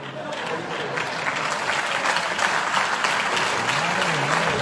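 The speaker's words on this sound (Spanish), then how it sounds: "Aplauden estos pasos." Steady applause from a crowd, dense overlapping clapping at moderate loudness with some voices mixed in, continuing to the end.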